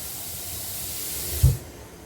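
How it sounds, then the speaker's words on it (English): Rice boils vigorously in a pot for pal payasam, giving a steady rushing hiss that ends with a soft low bump before quieting. "Rice is boiling vigorously."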